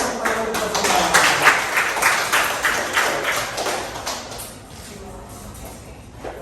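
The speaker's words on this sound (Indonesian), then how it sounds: "tepuk 1 kali, tepuk 2 kali, tepuk 3 kali" A class claps in several quick bursts of counted rhythmic hand claps, one, two, then three claps, fairly close, with a busy room and murmuring behind.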